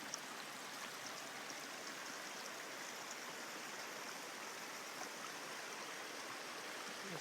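Spring water runs from a pipe down into a stream along the Appalachian Trail, a steady, soft rushing and trickling flow with no breaks, faint and even from start to end.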